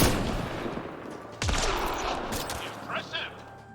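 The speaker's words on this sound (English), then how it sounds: "You can craft a shotgun that blasts lasers, or an assault rifle that shoots electricity, or a sniper rifle that fires sticky bombs." Sci-fi weapon fire in the Mass Effect Andromeda video game: bursts of rapid shots and sharp blasts, loud and close, with a heavy hit midway, under a voice.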